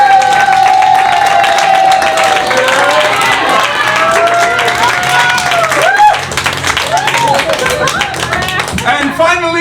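A live theatre crowd claps and cheers for a performer called Kid Vid at an anniversary show, loud and sustained, with shouts and whoops over the applause and a voice talking over it near the end.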